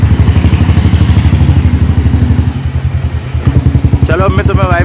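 A motorcycle engine running loud and close, with a steady throbbing rumble throughout that gets rougher toward the end, where a voice briefly cuts in.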